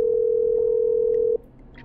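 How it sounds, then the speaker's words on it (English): A telephone dial tone in the video game Killer Frequency, a steady pure tone held loud and unbroken for over a second before cutting off abruptly into quiet. "I'm dialing."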